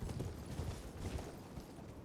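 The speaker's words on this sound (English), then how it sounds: "Gotta be careful on my horse by the ledge." Horse hooves clop steadily along a ledge in Elden Ring, a muffled, continuous trotting rhythm with no voices over it.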